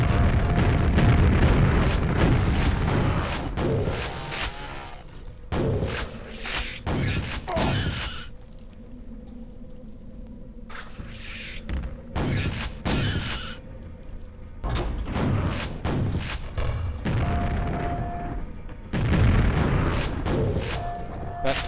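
Grenade launcher blasts in the Quake mod map Contract Revoked, heard as several loud broadband booms spread across the span, with quieter gaps between bursts and occasional talk.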